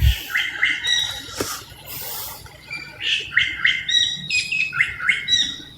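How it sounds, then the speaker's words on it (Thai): An oriental magpie-robin sings near a garden home, repeating bright whistled phrases and chirps in quick bursts with short pauses, fairly close, over quiet background. "นกกังเขน นกกังเขน"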